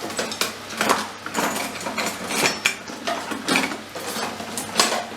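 Minced meat being broken up in a pan for cottage pie, with repeated clinks and scrapes of a utensil against the pan in an uneven rhythm, close by and fairly loud.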